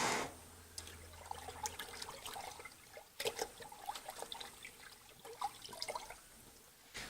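A metal lathe part is dipped and swished in a bucket of water to rinse off stripper and old paint, giving continuous soft splashing, trickling and dripping with a few sharper sloshes, close by.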